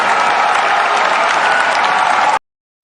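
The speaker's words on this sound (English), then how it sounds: "Where's the cheering button?" A canned cheering-and-applause sound effect fires from a button, a steady dense wash of clapping and crowd noise at loud, even level that cuts off abruptly into silence.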